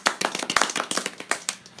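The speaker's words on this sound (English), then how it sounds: "Golf claps." Light golf claps, a quick run of about a dozen soft, close hand claps in an uneven rhythm, with no voices.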